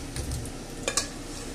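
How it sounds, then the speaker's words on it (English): Potatoes sizzle and crackle frying in a hot pan, with a couple of sharp scraping clinks of a utensil against the pan. "they're starting to fry already"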